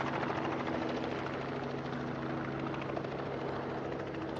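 A helicopter near Boeing Field airport gives a steady, continuous rotor thrum and turbine whine, heard from about half a mile away at an even level throughout.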